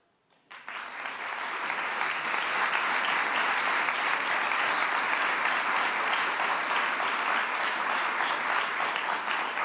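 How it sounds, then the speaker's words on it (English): A large audience at the International Women of Courage award ceremony breaks into loud, sustained applause that starts suddenly and holds at full strength throughout, a dense continuous wash of clapping. "I wish they could be here to hear your applause"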